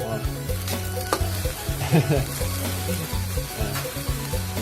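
Grasshoppers are stir-fried in a pan with pandan and lemongrass, a continuous close crackling sizzle broken by rhythmic scraping strokes of a spatula, with a low steady hum running underneath.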